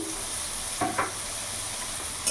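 Sliced eggplant seasoned with a little salt and turmeric frying in hot oil in a pan, a steady close sizzle with two brief stirring scrapes.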